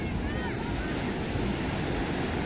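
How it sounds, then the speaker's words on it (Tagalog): Strong ocean waves wash onto the beach at La Union in the Philippines around sunset, a dense, loud, continuous roar of surf with wind buffeting the microphone. "Lakas ng wave. Lakas ng alon."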